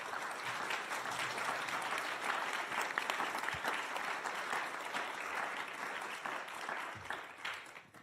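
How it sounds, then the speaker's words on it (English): A conference audience applauds panelists at the close of a session on networks and community, a dense, sustained wash of clapping from a sizable room that stays even throughout before thinning out at the very end. "give a round of applause to our panelists"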